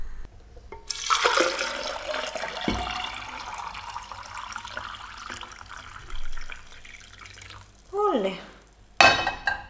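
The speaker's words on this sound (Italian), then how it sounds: "andiamo a togliere l'acqua perché non mi piace," Very hot water poured out of a container into a kitchen sink, a gushing splash that runs for several seconds, then softer trickles and clatters, with a brief voice and a sharp knock near the end.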